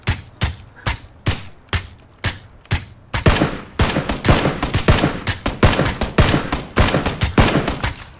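Gunfire in PUBG: evenly spaced single shots ring out first, then a faster, denser stream of sharp cracks follows, loud and close.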